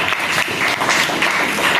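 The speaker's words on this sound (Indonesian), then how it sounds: "Tepuk tangan dulu buat kelompok 3." Brief, steady applause in a classroom for a student group of about three, a dense wash of many hands clapping throughout with no voices over it.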